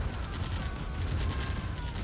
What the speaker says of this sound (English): Oof, that was a great explosion, that's for sure